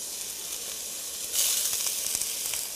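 Onions hit a hot pan and sizzle with a dense, steady hiss that surges louder midway, close up and unbroken by any talk.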